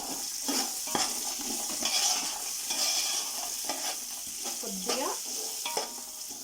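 Spices such as turmeric, salt, coriander and cumin powder stirred into a corn dish in a pan, with a steady scraping and mild sizzle, frequent utensil scrapes and clinks, and a brief spoken word.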